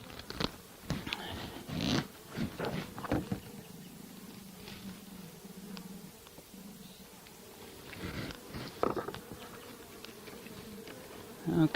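Honey bees hum steadily around open hive frames during a five-frame nuc transfer into a new hive, a close, low buzzing that persists throughout with occasional individual bees passing near and scattered knocks of frames being handled.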